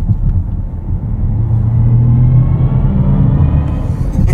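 A 2024 BMW 750e xDrive accelerating under throttle produces a steady, low engine and road rumble with a faint rising whir, continuous and fairly loud throughout.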